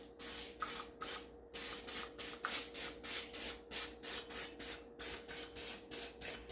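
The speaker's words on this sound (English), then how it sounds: "you're going to take cooking spray and just spray" Cooking spray hisses in short, rhythmic bursts over stuffed jalapeno peppers on a baking sheet, roughly a dozen quick sprays in a row, close and fairly quiet.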